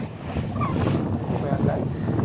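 Twin-engine motorboat at sea off Boracay Beach, a continuous loud low engine drone with rushing water and wind buffeting the microphone throughout.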